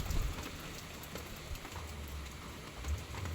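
Steady rain falls on a rainy morning in a rural garden, a soft continuous patter with scattered drops and low rumbling gusts, faint and even throughout.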